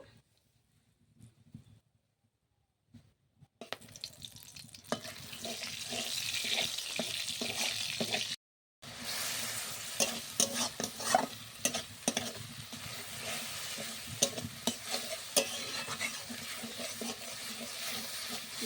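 Whole cardamom, clove, cinnamon, dried chilli and bay leaf frying in mustard oil, a hissing sizzle with stirring clatter that starts after a quiet opening, breaks briefly, then continues steadily close by.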